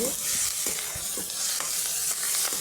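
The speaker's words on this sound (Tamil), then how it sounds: "மல்லியில் போட்டு நல்லா வதக்கிட்டு" Onions sautéing with coriander leaves for an egg curry, a continuous loud close sizzle with repeated scraping stirs of a spoon in the pan.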